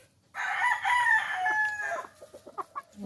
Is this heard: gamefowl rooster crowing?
yes